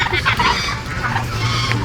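Chickens clucking close by on a rural farm, a continuous busy chorus of throaty clucks and calls, fairly loud, with no talk over it.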